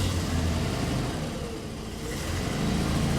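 A 1965 Ford Mustang Fastback with a 225-horsepower 289 V8 idles steadily after starting, a continuous low engine rumble close by with no talk over it.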